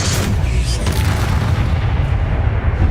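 The Expelliarmus spell being cast in Hogwarts Legacy on PS5, a loud, dense booming blast with a rumbling low end that fades slowly as the combat effects settle.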